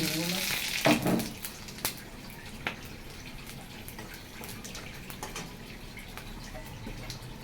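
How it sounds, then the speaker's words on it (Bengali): Whole spices hit hot oil in a pan: bay leaves, radhuni, cloves and cardamom, with a brief crackling burst at the start that settles into a quiet, steady sizzle with a few faint clicks. "ভাজা হয়ে গেছে দিয়ে দিচ্ছি আমি তেজপাতা আর রাঁধুনি ফোড়ন আর লবঙ্গ এলাচ চারটি"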